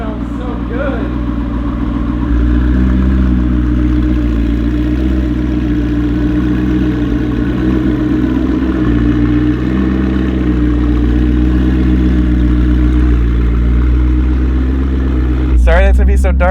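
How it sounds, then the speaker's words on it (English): Close and loud, the turbocharged engine of a McLaren 650S with a Kline Innovations Inconel exhaust rumbles steadily, swelling slightly after a couple of seconds and then holding an even, deep drone to the end. "oh, you can hear the turbos so much more."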